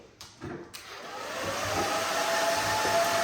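Hair dryer switching on and blowing steadily over short pixie-cut hair, a few bumps and handling noises at the start, then a loud continuous whooshing whir that builds and holds to the end, no talking.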